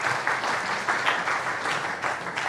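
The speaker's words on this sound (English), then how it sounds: "So please welcome for the second half of our workshop, Mike! Round of applause." An audience at a chemistry machine-learning workshop claps to welcome a speaker, a steady wash of applause with faint rhythmic surges, moderately loud and unaccompanied by talk.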